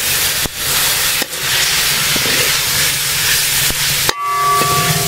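Chopped tomatoes tipped into a hot pan while cooking a shellfish (clam) roast, giving a steady loud hiss and sizzle with a few brief clatters, no voices.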